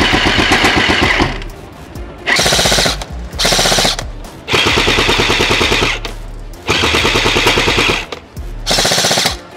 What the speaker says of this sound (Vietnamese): Anh em mình test phát xem đều đạn của MK18 Shizune nhá